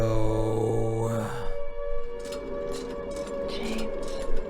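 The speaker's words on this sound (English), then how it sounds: "The air raid sirens." A wailing air raid siren in the video game Silent Hill 2, a sliding mechanical tone that rises and sways, joined by a shrill higher whine, loud and unbroken.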